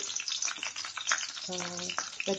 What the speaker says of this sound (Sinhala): තෙල් එක රත් වෙලා නිසා මම මේකට කරපිංච රම්ප එකතු කරනවා.